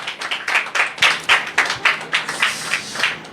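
Applause at a church gathering, about a dozen distinct rhythmic claps in a steady beat from a small group, close and fairly loud, with no talking over them.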